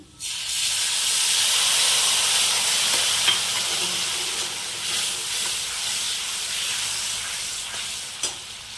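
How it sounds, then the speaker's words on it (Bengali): Mustard paste with ginger and onion fries in a pan, giving a loud, steady sizzle and hiss with occasional faint stirring scrapes. "সর্ষেটার মশলাটা ভালো করে ভাজা হয়ে গেছে"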